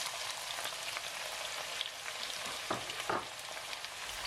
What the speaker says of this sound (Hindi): और स्लाइस किए हुए 2 छोटे साइज़ के प्याज, इनको भी हम ऑयल में शामिल कर लेंगे।